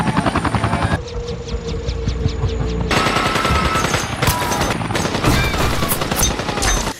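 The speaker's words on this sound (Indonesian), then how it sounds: "Tidak lama kemudian sebuah helikopter pun datang." A helicopter arrives amid gunfire, its loud rotor drone joined by rattling bursts of automatic weapons and overlapping shots that fill the scene, dense and close throughout.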